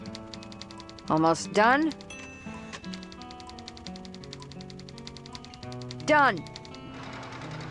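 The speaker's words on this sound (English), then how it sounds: "I'm a fast typer." Steady rapid typewriter-like key clatter in the adventure game Thimbleweed Park, continuous clicking under a short spoken exchange, with two bright rising chime sweeps layered on top.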